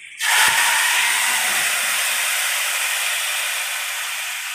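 Dal hits hot oil seasoned with asafoetida and sets off a sudden loud sizzle. It holds as a broad, steady hiss and fades only slightly over a few seconds, with no voices.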